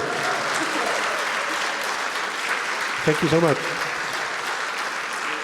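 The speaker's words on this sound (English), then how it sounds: "Give you a round of applause." Sustained crowd applause for panelists at an annual conference, with a speaker briefly talking over the clapping midway.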